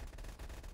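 Rapid gunshots in a Call of Duty match set in a Tokyo apartment, a quick cluster of close, punchy reports packed into under a second.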